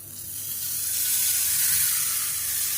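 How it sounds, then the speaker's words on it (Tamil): A hot tempering of mustard seeds, urad dal, curry leaves, dried red chillies and asafoetida hitting batter, giving a steady close hiss and sizzle that swells and holds for a few seconds. "இப்போ இதில் கடுகு, உளுந்து, கருவேப்பிலை, ஒரு 2 வரமிளகாய், பெருங்காயம் போட்டு தாளிச்சிருக்கேன். இப்போ அதை சேர்த்துக்கலாம்."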